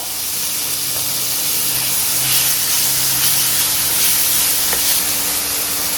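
Chopped tomatoes frying in hot tempering oil for Maharashtrian tomato saar: a close, continuous sizzle and hiss with faint crackles and stirring pops scattered through it.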